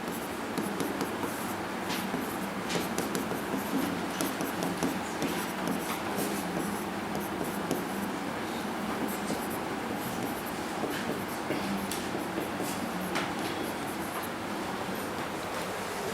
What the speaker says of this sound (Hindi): मैं सीरीज लिखता हूं